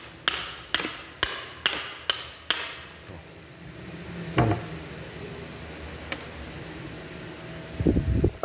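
Series of sharp, evenly spaced chops as a Hanyan Blades Imperial Franklin camp knife strikes wood along the grain, about six close, loud impacts in quick rhythm, then a few scattered knocks and handling sounds.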